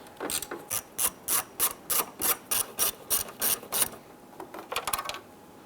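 A ratchet loosens 7mm screws on a 1995-2001 Ford Explorer grille panel, about a dozen quick, even clicking bursts at close range, followed by a faster rattling flurry.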